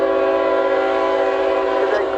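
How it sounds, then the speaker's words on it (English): A train speeding north into forest near Stark, North Florida sounds a loud, sustained chord horn blast over the rumble of rail wagons, steady and close throughout. "our last shot of the train as it speeds north into the dark forests of"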